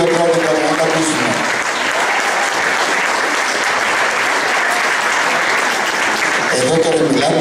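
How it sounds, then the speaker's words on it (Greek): A large audience at a Greek national meeting of school choirs breaks into sustained, dense applause filling the whole stretch, with a voice briefly audible at the very start and end. "Μεγάλο χειροκρότημα, να τα ακούσουμε."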